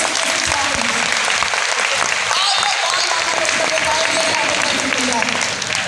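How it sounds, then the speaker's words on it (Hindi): Audience clapping together at an MLM business gathering in a home, loud and continuous, with a voice talking over it partway through. "एक बार ताली बजाके दिखाइए"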